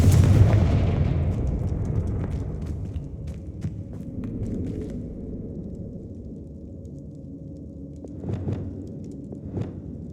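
Confringo fire spell blasting in Hogwarts Legacy, a loud booming explosion that rumbles and slowly fades, followed by a couple of softer impacts and crumbling thuds.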